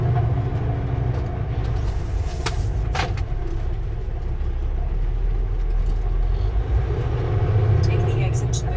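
A train at the Canadian Pacific rail yard in Kansas City rolls past with a continuous low rumble and mechanical drone, steady throughout with no voices.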